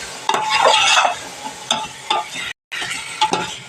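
Chicken coated in yogurt and masala for Dindigul-style biryani stirred and fried in a pan, with loud scraping strokes over a steady sizzle that stop for a brief silent gap before resuming.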